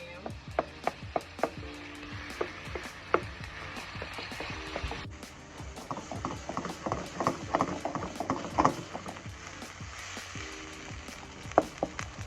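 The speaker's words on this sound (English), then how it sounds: "you want to just start browning your ground lamb" Ground lamb browning in a pan, a steady sizzle broken by frequent sharp clicks and scrapes of a utensil working the meat, fairly quiet and close.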